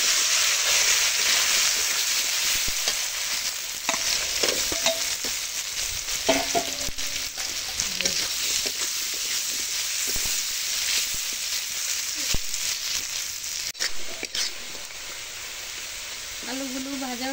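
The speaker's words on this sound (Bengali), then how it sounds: "এখন আলুগুলো ভেজে নেব।" Small potatoes fry in a pan of hot oil, with a loud, continuous dense sizzle and occasional stirring clatter close by, as the cooking continues for a fish curry.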